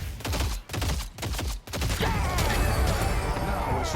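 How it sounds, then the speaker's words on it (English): Rapid bursts of explosions from the Mystic Reverb item in the video game Deadlock, several quick blasts in a cluster, then a dense, continuous roar of detonations and crackle, loud and close. "Let's see how big the explosions are."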